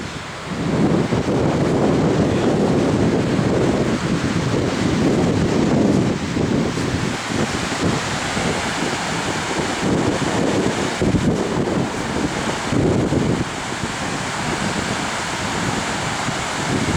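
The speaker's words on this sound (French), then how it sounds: "Les vagues de ouf." Ocean surf breaking on the beach at Capbreton, a continuous loud wash mixed with heavy wind buffeting the microphone throughout, with no speech.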